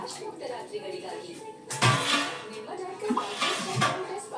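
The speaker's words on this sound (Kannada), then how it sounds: "ಇನ್ನೊಂದು ಸ್ವಲ್ಪ ಹಾಕೋತಾ ಇದ್ದೀನಿ" Water poured from a glass into a pot of curry being thinned to a gravy, a splashing pour starting partway through and running in bursts, with kitchen clatter around it.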